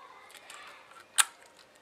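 A Mamiya RZ67 Pro II medium-format camera's release collar lever is moved, giving one sharp mechanical click against a quiet background.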